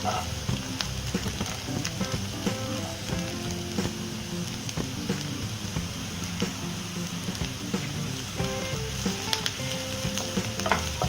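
Carrots and other vegetables sizzling as they are sautéed in a pan for Indian-style veg fried rice, a steady continuous fry with frequent scraping stir clicks throughout, close and moderately loud with no talking.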